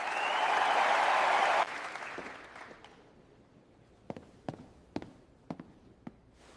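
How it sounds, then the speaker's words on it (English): A crowd of people claps loudly for under two seconds, the applause cutting off abruptly, followed by a few scattered, sharp single claps spaced out at the end. "Then somebody started clapping. Then somebody else."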